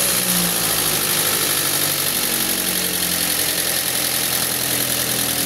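A Toyota Vios Gen 3 single VVT-i engine idles steadily after a coil replacement, an even close mechanical hum with slight vibration and no talking.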